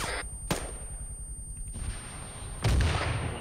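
A few sharp cracks ring out, followed by a heavier, booming vehicle blast, like an explosion in the video game Arma 3.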